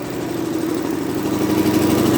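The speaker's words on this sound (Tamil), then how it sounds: "ஸோ இப்போ இன்ஜின் ஸ்பீட் நார்மல் ஆகிடும்" A single-cylinder diesel engine drives an electrical load during a performance test, producing a steady, close, loud chugging throb with an even rapid pulse and no voices.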